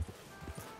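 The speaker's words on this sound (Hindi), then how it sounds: "बाहर निकलो घोड़े पे चढ़ो और निकलो" Horse hooves clip-clop in a quick, steady rhythm of soft, close thuds as a rider sets off on horseback in Red Dead Redemption 2.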